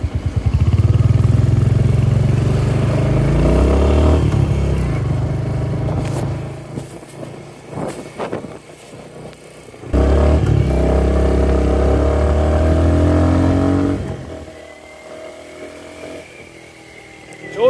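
Royal Enfield Hunter 350 motorcycle riding on a road toward Sitamarhi, its single-cylinder engine thumping loud and close with revving and throttle changes, dropping briefly to a lower idle-like rumble midway before surging again.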